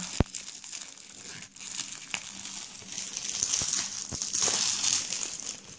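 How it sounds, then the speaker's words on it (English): Plastic shrink wrap is torn and peeled off a board game box close up, giving a sharp snap at the start followed by steady crinkling and crackling that grows louder toward the end. "I almost don't want to take off the plastic"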